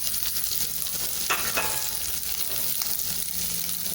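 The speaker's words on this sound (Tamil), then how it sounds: "இப்போ கட் பண்ணி வச்சுருக்கேன் உருளைக்கிழங்கு போட்டுடலாம்." Cut potatoes dropped into hot oil already crackling with popped mustard seeds and fennel, giving a loud, continuous sizzle with a brief scraping stir partway through.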